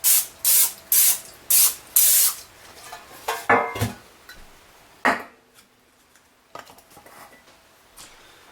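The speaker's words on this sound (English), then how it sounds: "we're going to grease this bread pan" Five quick loud bursts of spray greasing a bread pan for an apple seed cinnamon Irish bread, followed by softer clinks and handling sounds of the pan on the counter.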